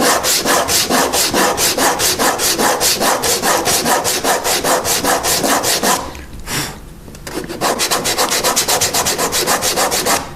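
A wooden chess knight is sanded by hand in fast, rhythmic back-and-forth strokes, loud and close, with a brief pause before the rasping resumes.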